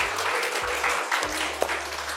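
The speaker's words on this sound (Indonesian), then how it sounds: "Boleh tepuk tangan sekali lagi." A studio audience claps on a celebrity talk show, a brisk, moderately loud patter of hands with a low hum running underneath.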